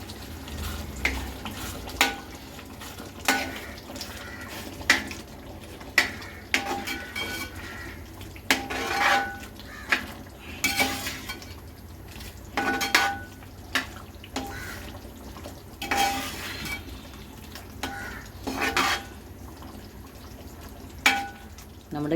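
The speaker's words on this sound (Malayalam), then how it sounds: "നമുക്ക് നന്നായിട്ട് ഇളക്കാം" Beef being stirred through thick, reduced gravy for beef pickle, with repeated scraping and clinking strokes of a spoon against the pan over a soft sizzle, steady and close.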